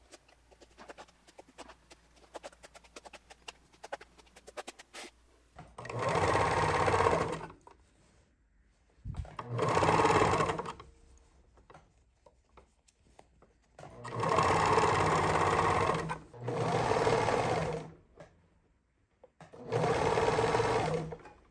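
An overlocker stitches a dress seam in five loud, steady whirring bursts of one to two seconds each, split by short quiet gaps, after a few seconds of faint clicking handling noise.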